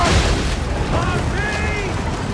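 Ship-mounted cannons fire in the Assassin's Creed III video game, a loud, rumbling booming roar that fills the short stretch, with wind and sea noise beneath and brief shouted voices.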